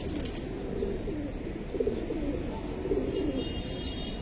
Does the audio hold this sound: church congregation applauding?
no